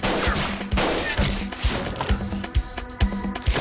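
Gunfire from an action anime scene: a rapid run of sharp, punchy shots in a loose, uneven rhythm. The shots are close and loud, with a gritty, crashing texture between bursts.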